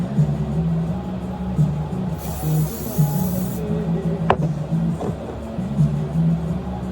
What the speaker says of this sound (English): I love this hairspray.